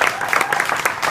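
A brief burst of steady crowd clapping at a blues concert, packed and even with no voice over it.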